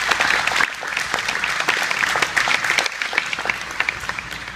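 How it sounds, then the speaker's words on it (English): Warm audience applause following a performance of the Star Spangled Banner at a military ceremony, steady clapping sustained throughout and easing slightly toward the end. "if you'd all please join me in a round of applause for that powerful rendition"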